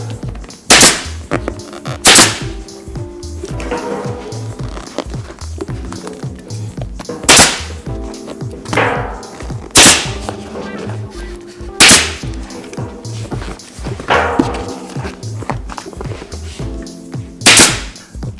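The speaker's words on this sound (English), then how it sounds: "Try to get a staple through that seam." A staple gun drives staples through the seam of a motorcycle seat cover on a KLR 650, sharp single snaps spaced a second or two apart, loud and close in a quiet room.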